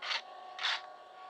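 A PPSh-41 submachine gun is reloaded in Call of Duty Zombies: two short, raspy metallic sliding sounds about half a second apart, fairly quiet and clean, with no voice.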